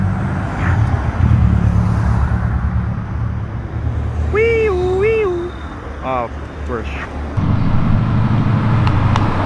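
Loud, steady engine roar of a white Porsche with a loud exhaust accelerating hard nearby, with brief voices and shouts cutting in midway before the motor surges again.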